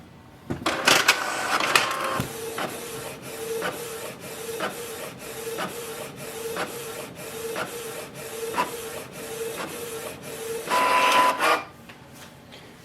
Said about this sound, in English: Print nozzle check pattern.